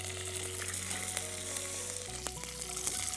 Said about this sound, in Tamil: வெங்காயம் போடுங்க.